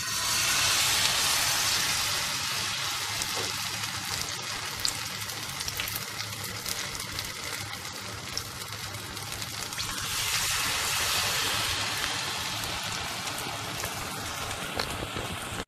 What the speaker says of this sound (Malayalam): നമുക്കിനി ബ്രെഡ് മാവി മുക്കി വറുത്തെടുക്കാം